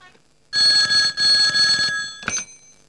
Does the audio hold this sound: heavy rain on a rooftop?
no